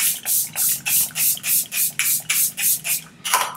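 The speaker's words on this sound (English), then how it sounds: "Let's spray this right now." A mini Rare Beauty facial spray mists repeatedly in quick, evenly spaced bursts, about a dozen close, airy hisses in a steady rhythm with a slightly longer final spritz.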